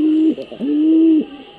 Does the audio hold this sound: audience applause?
no